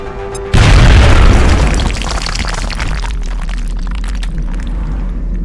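A frag grenade detonates in XCOM: Enemy Unknown with a sudden, loud, deep boom that rolls into a long crackling rumble fading over several seconds, heard alone without talk.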